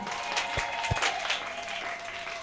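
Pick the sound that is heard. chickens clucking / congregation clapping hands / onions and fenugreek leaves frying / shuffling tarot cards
congregation clapping hands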